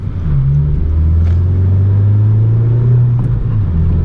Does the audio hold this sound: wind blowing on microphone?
no